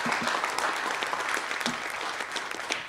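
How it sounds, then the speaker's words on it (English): Audience applause for the panelists at the close of a Surrey Board of Trade leadership-series event on immigration and business, a dense, steady wash of many hands clapping that fills the whole moment at moderate volume. "Let's give a round of applause to our panelists"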